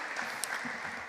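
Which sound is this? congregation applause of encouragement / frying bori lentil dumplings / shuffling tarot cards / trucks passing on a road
congregation applause of encouragement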